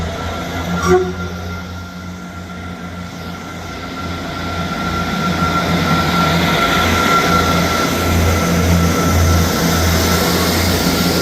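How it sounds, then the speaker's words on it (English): A ScotRail train departs Edinburgh Gateway station, its low engine rumble and rolling wheel noise building steadily and growing louder as it pulls away, with a brief higher tone early on. "Departing out now is the 11:59 ScotRail service from Dundee to Edinburgh Waverley."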